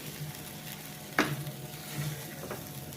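Potatoes and cauliflower fry in a pan for a spicy Maharashtrian festival thali, giving a steady close sizzle with one sharp spoon scrape partway through and soft stirring shuffles after it.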